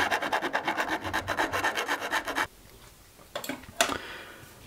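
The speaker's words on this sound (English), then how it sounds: "So let's give these a quick file down. And you also want to make sure you just file off these sharp points here." Hand filing sharp points off 3D-printed plastic Bosch track clamps: a steady run of rapid rasping strokes, close and fairly loud, then a pause and a few short scrapes near the end.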